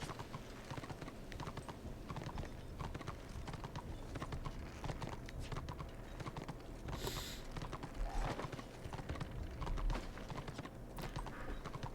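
Rhythmic hoof clip-clop of a galloping horse in the video game Warhammer: Return of Reckoning runs steadily throughout, mixed with dense game background noise and occasional brighter clatters.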